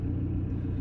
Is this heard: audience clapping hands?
no